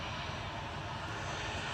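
Airbus A380 engines spin up as a steady, broad turbine roar at a distance, with no pauses or change in level.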